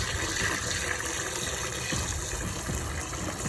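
Steady rushing water pours continuously into a cooking pot, a dense, even gush with no pauses or talk.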